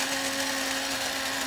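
Coffee grinder whirring through coffee beans for a fine grind, a loud, steady high-pitched buzz that stays constant and close throughout.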